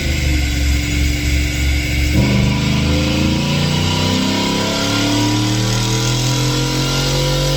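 Gen 3 Ford F150 with a 10R80 transmission revving hard on a dyno in sixth gear, a loud close engine roar climbing steadily in pitch after a brief shift-like dip, sustained without pause.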